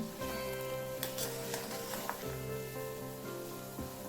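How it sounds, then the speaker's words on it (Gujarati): A herbal decoction bubbles in a pot over a gas flame, a soft, close, continuous simmer with occasional louder pops and no voices. "આ રીતે એકદમ સરસ રીતે આપણે ઉકળવા દેવાનું છે"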